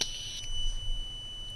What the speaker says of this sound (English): When I release the gas from the lighter, the LED will turn on and the buzzer will sound.